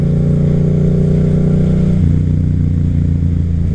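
A Yamaha FZ07 motorcycle on the highway, its engine droning loud and close with a steady rumbling tone that drops in pitch partway through as the revs fall.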